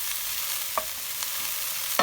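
Onions stir-fried in a pan until coloured and fragrant, for Singapore noodles: a steady soft sizzle with a few sharp utensil scrapes and clanks against the pan.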